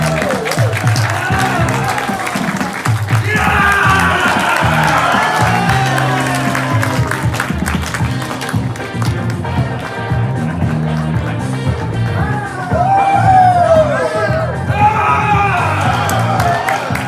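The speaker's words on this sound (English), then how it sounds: "So give a big round of applause for Breakfast" Audience at an improv festival applauding and whooping as an improv team takes the stage, loud dense clapping with shouts and cheers, followed by performers chanting and singing over the crowd noise.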